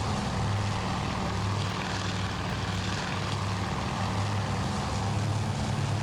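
Steady droning roar of WW2 propeller aircraft engines in the naval strategy game Task Force Admiral, a dense continuous hum with a pulsing low throb that stays loud and unbroken throughout.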